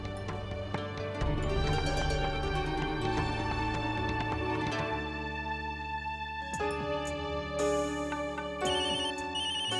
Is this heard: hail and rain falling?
no